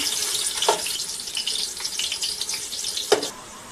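Oil sizzles steadily in a pan with bay leaf, cardamom, a cinnamon piece and onion frying for a mutton curry, a close hiss broken by a couple of brief louder bursts.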